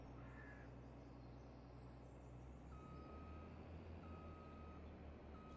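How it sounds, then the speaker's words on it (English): A reversing vehicle's backup alarm repeats steady evenly spaced beeps over a constant low engine rumble in a Western Australian farm setting in Farming Simulator 22, with faint crow caws in the background. "let me back up here to make room for the truck"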